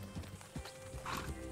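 Horse hooves clip-clop in a ranch roleplay video game, a steady walking rhythm of close, moderately loud hoof strikes with a brief whinny-like tone and faint background voices.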